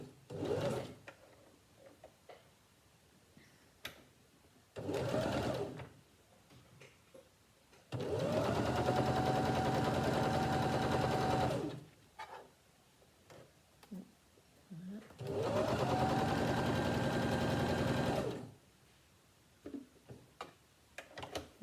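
Sewing machine stitching a fabric face mask, running in two long steady bursts of a few seconds each with shorter starts between, a fast mechanical whir close by, with a person talking in the pauses.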